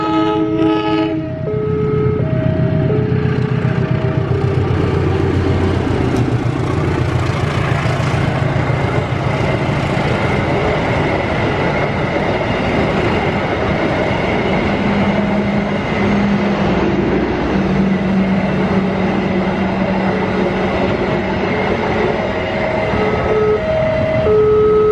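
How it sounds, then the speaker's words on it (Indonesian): A train runs past on a three-track junction where lines branch toward Cirebon and Purwokerto, a loud steady rumble and rattle of wagons filling the whole stretch, with horn-like tones sounding near the start and again later. "Nah, ini dia keretanya."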